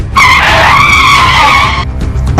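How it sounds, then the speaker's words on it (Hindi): Scooter brakes squeal hard in a loud, sustained skid of about two seconds, a tonal screech that cuts off abruptly, with no talking. "अपने दोनों हाथों से ब्रेक्स को दबाने लगा।"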